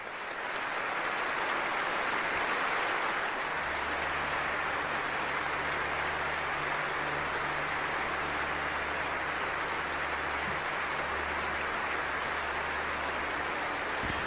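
Thunderous applause fills a large cathedral during a bishop's ordination, a long, dense, reverberant roar of clapping from the congregation with a low steady hum underneath.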